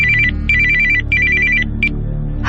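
A telephone ringing in a horror story, with repeated electronic trilling bursts in a steady on-off pattern, loud and close over a low background hum, with no talking.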